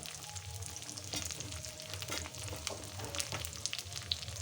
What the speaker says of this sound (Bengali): এবার আমি টমেটো কুচিগুলো দিয়ে দিচ্ছি পাঁচ সাত টক চেরা কাঁচা লঙ্কা